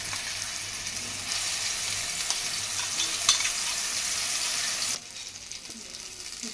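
Ground masala mix tipped into hot oil and ghee for paneer tikka masala gives a steady, close sizzle that holds evenly for about five seconds, then drops to a quieter fizz, with no talk over it.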